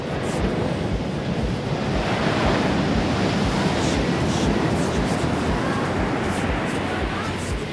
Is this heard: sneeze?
no